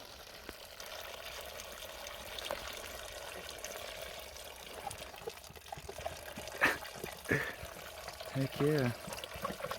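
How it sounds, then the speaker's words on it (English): A small stream of water flows out of a rock in the mountain high country, giving a steady, faint trickle that runs throughout under brief close talk from a man outdoors. "There's a pretty nice little stream of water right here coming out of this rock."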